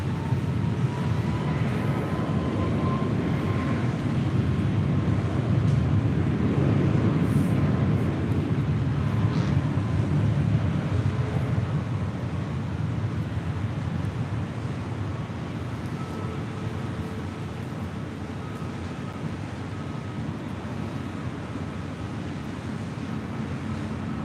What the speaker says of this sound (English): Southwest Airlines Flight 570 heading to Las Vegas in the 737 MAX 8, now starting her roll down 24 left.